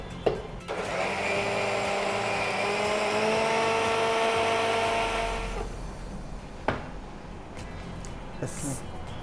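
A mixer grinder blends ragi juice in a loud, steady whir for about five and a half seconds, then cuts off, leaving a few clicks and light handling noises.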